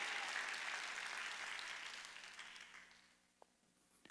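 A church congregation claps during a Sunday worship service, a dense burst of applause that fades away gradually over a few seconds, ending with a couple of faint scattered claps.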